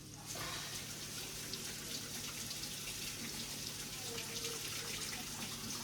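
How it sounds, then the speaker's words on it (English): Tap water runs steadily into a sink as hands are washed beneath it, a continuous close splashing stream with no talk. "Wash my hands here."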